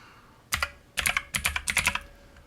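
A computer keyboard clatters through quick, crisp bursts of keystrokes as a web address is typed, coming in short clustered runs with brief pauses, close and fairly quiet.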